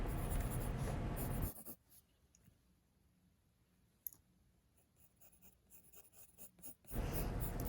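A pencil sketches long shapes on paper for a cartoon figure, soft scratchy strokes and taps coming close and quiet between louder stretches of background noise at the start and end.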